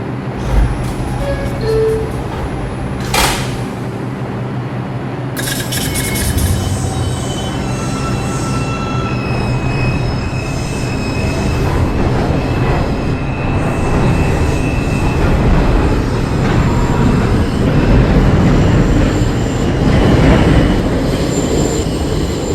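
A Bronx-bound New York subway 1 local train rolls along, its loud steady rumble joined by high squealing wheels and a brief sharp tone near the start, the clatter swelling slightly as it runs on.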